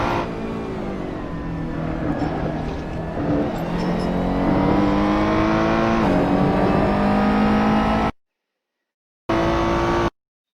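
Ferrari 488 GTE racing engine in Assetto Corsa at Le Mans, loud and sustained, revving steadily through the gears with rising harmonic pitch sweeps before cutting off abruptly into silence, then a brief burst returns.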